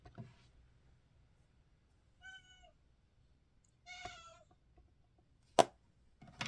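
Cats meow outdoors at feeding time: a few separate, faint, distant cries with long quiet gaps between them, plus a couple of sharp knocks near the end, and no talk.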